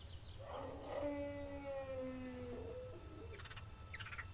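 A wolf howls in the video game Gabriel Knight 2: one long, wavering tonal cry that holds steady and slowly falls, moderately loud over a low ambient hum, with faint chirps near the end.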